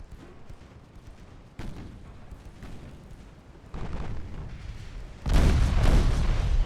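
Naval guns fire in the 1897-era warship game Ultimate Admiral Dreadnoughts, a series of heavy booming shots that step up in loudness, the final blast the nearest and loudest, with no talking.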